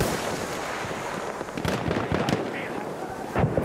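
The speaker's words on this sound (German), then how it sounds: "Ich werfe eine Granate." Grenade blast in a World War I shooter set in the Argonne Forest, heard as a few sharp pops and bursts amid ongoing battle noise and gunfire, with voices speaking over the chaos.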